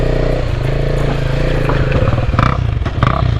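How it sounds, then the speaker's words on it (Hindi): A motorcycle engine revs and drones steadily close by while a rider pulls a wheelie near a washing station, with clattering bursts and rising throttle toward the end. "यहाँ पे प्रिंस भाई ओ व्हीली दिखा रहे यार"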